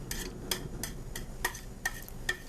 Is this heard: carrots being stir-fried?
yes